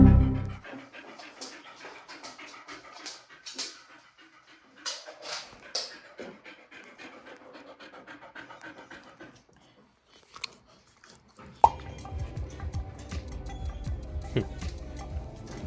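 Dog panting inside a converted ambulance camper van, a steady close breathing rhythm with small whimpers, fading into quieter faint room sounds before a louder rustling, bumping stretch near the end.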